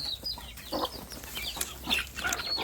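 Several farm chickens cluck close by in scattered, overlapping bursts, with soft, fast calls rising and falling over low background rumble.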